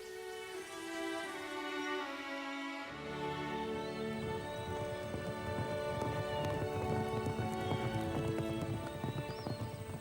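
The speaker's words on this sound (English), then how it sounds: "Emma's horse set off at a gallop. Rodolphe galloped by her side." Horses gallop with rapid, rhythmic hoofbeats and an occasional whinny, steady and fairly near, over a sustained musical backdrop.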